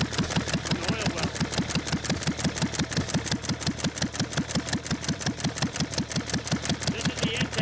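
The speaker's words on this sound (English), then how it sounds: "this engine that's popping behind us here is made to run off head gas or casing gas from the oil well" A 1.5 hp IH McCormick Deering stationary engine, built to run on casing gas from an oil well, pops close by in a fast, steady, even rhythm of sharp exhaust beats, loud and alone.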